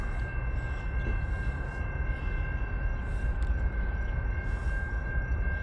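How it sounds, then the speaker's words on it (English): An intermodal freight train rumbles past a crossing in Lapeer steadily, a continuous low roar of rolling cars with a high sustained tone, loud and close throughout. "It's an intermodal train."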